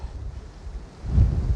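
Strong wind gusts buffet the microphone on an exposed ridge on the Arizona Trail near Oracle Ridge, a low rumbling roar that dips briefly and then surges louder.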